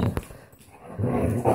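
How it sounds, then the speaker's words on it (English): Standard poodle puppies in a home give a few short yips and whimpers, close and fairly soft, in brief bursts with quieter gaps between. "Oh, and there's the little puppies."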